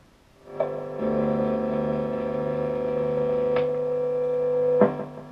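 An electric guitar's bridge pickup feeds a combo amp, producing a steady loud hum with a sustained tonal whistle for about four seconds. Brief clicks or knocks mark the start and end, with no talking.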